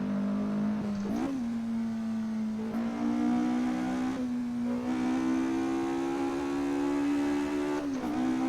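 Ford Escort MK2 engine in the Assetto Corsa racing game, with a deep induction note revving hard near 8,000 rpm; a loud sustained tone climbs with each gear, broken by a few brief dips at the shifts.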